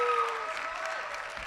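An audience at a campus life awards event applauds in a continuous wash of clapping, with a faint tone fading out early on.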